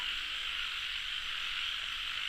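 Frogs croak in a dense, steady chorus during the first rain of the year while nets are cast for them, a continuous buzzing trill with no talking.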